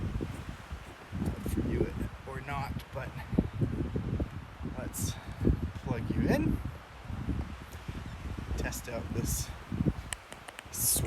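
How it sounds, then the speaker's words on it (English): Strong wind gusting outdoors in a snowy off-road setting near a 4WD Toyota Hilux pickup, a steady loud roar buffeting the microphone throughout the clip. "It's really windy, and so I'm just gonna walk out here in this wind"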